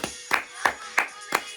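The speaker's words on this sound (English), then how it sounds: "Just thought I'd clap for us for no reason." A single person claps five times, about a third of a second apart, each clap sharp and close.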